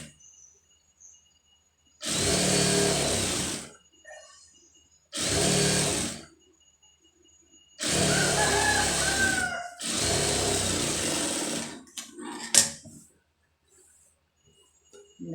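A sewing machine stitches a blouse lining in four loud, steady runs of rapid whirring, separated by short pauses, with small handling noises and no talk.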